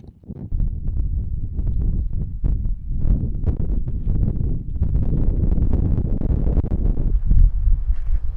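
Wind gusts buffet the microphone at Carhenge, the roadside car sculpture in Alliance, Nebraska, producing loud low rumbling thumps and irregular blustery surges that continue throughout, with no talking.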